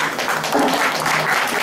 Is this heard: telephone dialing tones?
no